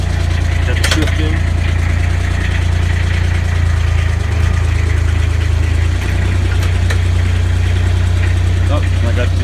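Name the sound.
Kubota RTV 900 engine idling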